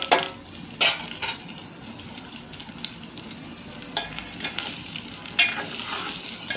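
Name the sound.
stirring boiled potato pieces into curry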